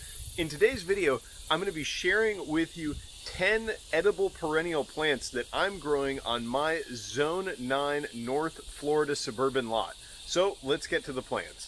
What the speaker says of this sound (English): the cicadas are out in force today